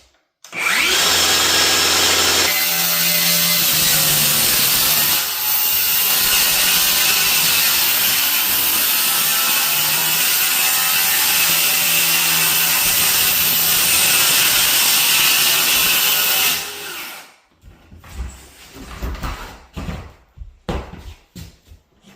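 DeWalt sidewinder circular saw cutting wood, a loud, sustained high whine for about fifteen seconds that dips slightly under load, then winds down, followed by faint clunks and handling sounds.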